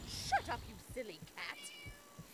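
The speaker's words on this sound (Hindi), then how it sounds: "इसने किसी बिल्ली को किडनैप कर रखा है और हमें उस बिल्ली को छुड़वाना होगा" A cat meows a few times in the Scary Teacher 3D video game, short mewing calls mixed with game sounds and someone talking over them.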